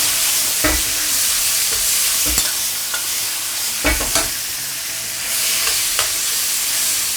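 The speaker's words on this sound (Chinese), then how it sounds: "把这个焯水的排骨、 香菇，开大火去翻炒一下。" Blanched pork ribs and shiitake mushrooms with ginger slices and scallion sections are stir-fried over high heat, giving a loud, continuous sizzle with several sharp clanks and scrapes from the spatula.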